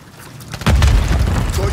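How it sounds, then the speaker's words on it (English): A grenade blows up in Call of Duty Modern Warfare 3 multiplayer: a sudden heavy boom with a rumbling tail that stays loud to the end, after a quieter lead-in. "Really? A grenade?"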